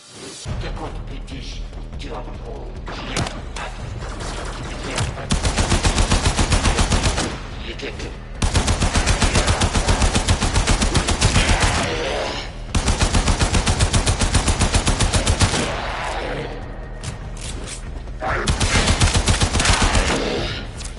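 Rapid automatic gunfire from a primary weapon in the sci-fi video game Warframe, loud and close, firing in several sustained bursts with short pauses between, mixed with game effects.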